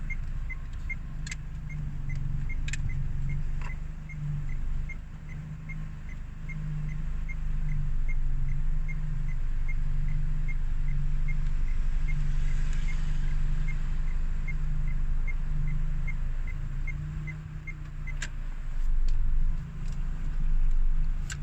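A car pulls out of a parallel parking spot past a cone and steers into its lane, its engine humming low under a steady ticking turn signal and a few scattered clicks.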